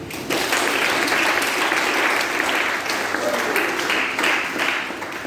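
A church congregation applauds steadily at close range, dense clapping mixed with voices and cheers that holds for the whole stretch with slight swells.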